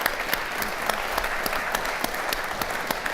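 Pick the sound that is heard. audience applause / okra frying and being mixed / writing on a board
audience applause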